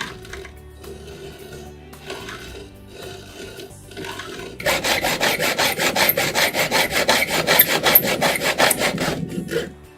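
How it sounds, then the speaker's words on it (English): A hand hacksaw cuts through metal mounting track with a quick, even back-and-forth rasping rhythm, starting after some light handling noises and continuing close and loud until it stops. "So now we're going to cut the track with an ordinary hacksaw."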